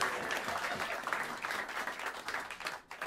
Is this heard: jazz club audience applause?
yes